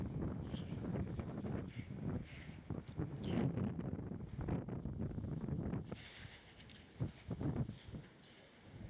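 Strong wind buffets the microphone with loud, continuous low rumbling and gusting roar, swelling and easing throughout.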